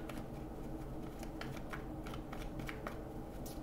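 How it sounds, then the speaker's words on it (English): Tarot cards are shuffled quietly, producing soft, irregular papery clicks and flutters over a faint background hiss. "Let me just start shuffling."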